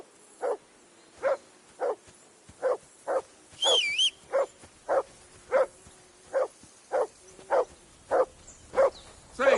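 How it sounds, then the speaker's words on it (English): A dog in the video game Kingdom Come Deliverance 2 barks in a steady run of about fourteen sharp, evenly spaced barks, close and loud, with a brief whistling game sound partway through. "That barking was a pain in the ass."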